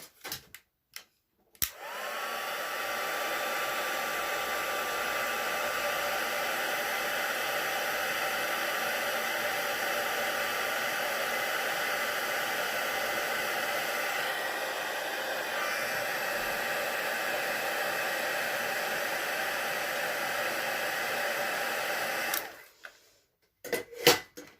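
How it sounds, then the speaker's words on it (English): A heat tool blows continuously for about twenty seconds to heat set embossing on a blue floral handmade card, a loud steady whirring roar that starts and stops abruptly with no talk. "I'm just going to heat set this"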